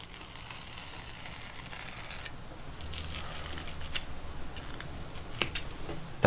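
Scissors cut through fur-covered material for making owl jesses, a soft, close crunching and snipping that grows more distinct toward the end, with a few sharp clicks.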